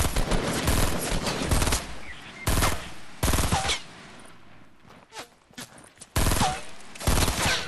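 Bursts of rapid gunfire in a shooter video game, several loud volleys separated by brief quieter gaps, with faint footsteps between them.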